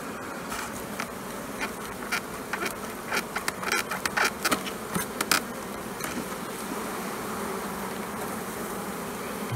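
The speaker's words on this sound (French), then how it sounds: "En tout cas, il y a beaucoup d'abeilles." A dense, steady buzz of many bees at a hive fills the air, with scattered louder zips as individual bees pass close by.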